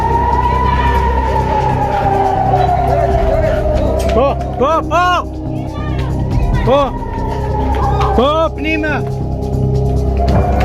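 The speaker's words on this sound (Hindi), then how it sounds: "तेल अवीव में लंबे समय तक सायरन की आवाज़ सुनी गई है।" An air raid siren wails over Tel Aviv with a long, slowly falling tone, loud and sustained, while voices and other noise overlap it.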